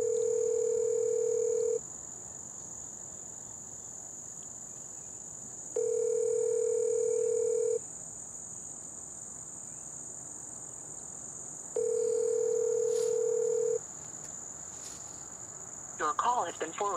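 A phone call rings out with a repeated tone, three long, loud electronic rings about four seconds apart, over a constant high whine from crickets and insects outdoors.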